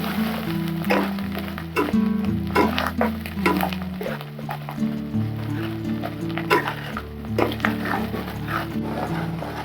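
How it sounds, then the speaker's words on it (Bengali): Tel potol curry with coriander leaves being stirred in a pan: soft scraping and squishy stirring strokes with a faint sizzle, close and irregular, under a low steady background tone with no talk. "অল্প একটু ধনে পাতা, দিয়ে ভালো করে নেড়ে নেব।"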